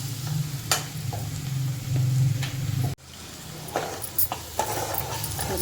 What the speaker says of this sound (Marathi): आणि कांदा लसूण मसाला व्यवस्थित त्याला परतून घेऊया आपण